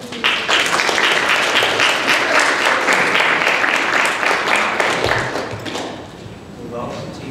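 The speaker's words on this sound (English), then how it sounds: "So we'll give a round of applause." Sustained audience applause for a presenter at a talk, dense overlapping clapping from a crowd that stays loud for about five seconds before fading out, with a faint voice beginning to speak near the end.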